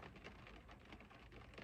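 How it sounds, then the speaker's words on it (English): Steady rain falls in a continuous, even patter, faint and distant, with no voices and no other sounds. "the rain is probably super annoying right now"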